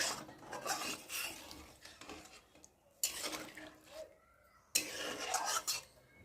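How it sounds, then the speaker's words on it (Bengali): Metal spatula scraping and stirring fish curry in a pan, in several bursts of clattering, rubbing strokes separated by brief pauses, close and moderately loud. "একটু খুন্তি দিয়ে ভালো করে নেড়ে নেবো।"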